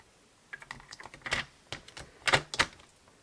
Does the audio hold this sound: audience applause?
no